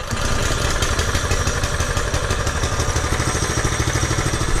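A small engine, fired up after the choke is set and the fuel turned on, runs with a rapid steady clattering idle, close and loud throughout with no voices.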